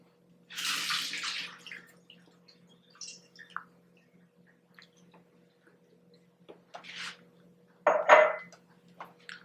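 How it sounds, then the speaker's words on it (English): Water drains from soaked dates in a kitchen, a short splashy pour at first, then scattered drips and trickles, and a second brief gush near the end. "So first I'm going to drain the water from the dates."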